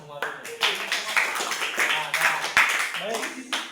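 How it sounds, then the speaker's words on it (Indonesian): Students in a classroom clap together in a brief burst of applause, steady claps running under a teacher's voice and classroom chatter. "Oke, tepuk tangan semua dulu."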